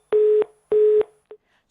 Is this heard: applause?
no